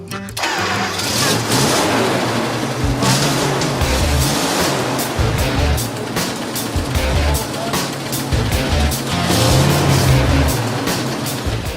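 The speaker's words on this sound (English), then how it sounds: "Hopefully, the new distributor cap will get the M3 firing. Bursts into life." A BMW M3 fitted with a new distributor cap cranks and catches, then runs loud and rough with a steady engine drone, close by, and a voice is faintly heard.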